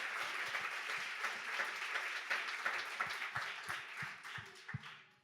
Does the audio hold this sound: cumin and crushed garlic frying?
no